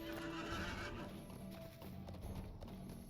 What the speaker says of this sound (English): let's get back on a horse and get back to town